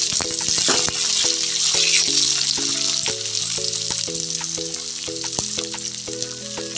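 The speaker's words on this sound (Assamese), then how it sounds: "এয়া মই দিলোঁ পিঁয়াজ, দিছোঁ তেজপাত" Sliced onion and bay leaves fry in hot oil with a bright, crackling sizzle that runs throughout, close and fairly loud, under a background melody of music.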